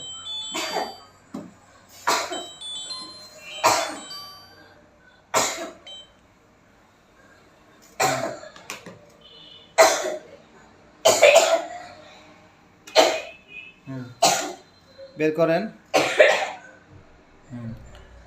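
A person coughs in repeated harsh bursts with throat clearing, spaced through a tense religious exorcism session, with other voices speaking briefly between the coughs.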